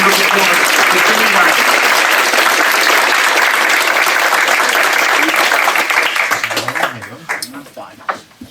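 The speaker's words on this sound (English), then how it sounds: "Please, everyone, a round of applause for Jimmy" An audience at a Brooklyn Republican club launch event gives a round of applause, loud and sustained clapping from a crowd that thins and fades out near the end.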